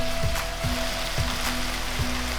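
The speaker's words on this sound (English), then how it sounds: "we're going to let this simmer for about 5 minutes" Taco meat with taco seasoning simmers in a pan, giving off a loud, continuous sizzle and crackle with small pops, close up and steady throughout.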